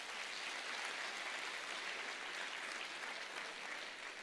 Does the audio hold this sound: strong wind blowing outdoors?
no